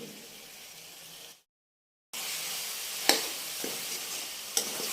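Potatoes frying in a pan with a soft, steady sizzle, cut by a brief silence, then scraping stirs and a few sharp clinks of the utensil against the pan, close and fairly quiet.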